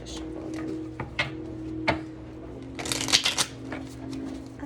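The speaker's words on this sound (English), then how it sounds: "I feel like I just shuffle again." A few crisp riffles and taps of tarot cards being shuffled close by, ending in a brief flurry of bright snapping.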